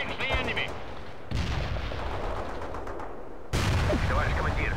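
Artillery barrages and gunfire from the real-time strategy video game World in Conflict, a dense wash of rumbling blasts and crackling shots that shifts in loudness, with brief game voice chatter at the start and near the end.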